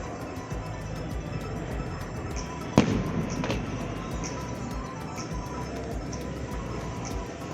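Fireworks bursting near a rooftop restaurant during an anniversary celebration evening, a sharp crack followed by another pop against a steady background wash of outdoor noise, heard from a short distance.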